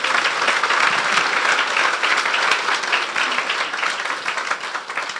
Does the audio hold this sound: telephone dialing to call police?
no